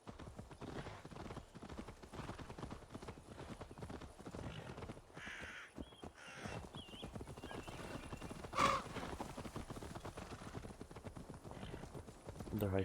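Horse hooves clip-clop in Assassin's Creed Valhalla, a steady rhythmic run of clopping with occasional neighs and whinnies and faint crow calls over a quiet outdoor ambience.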